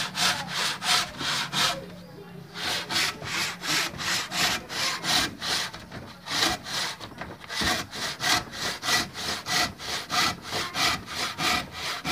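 A heavy wooden block clamped in a vise for an acoustic guitar build being split with a hand saw, loud close rasping strokes in a steady back-and-forth rhythm with one brief pause, no talk.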